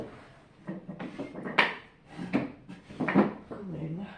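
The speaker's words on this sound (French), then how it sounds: "je vais me tirer une écharpe de mon petit tiroir" A small drawer slides open and clatters as a scarf is taken out, with several wooden knocks and rubs spread over a few seconds while a person talks softly nearby.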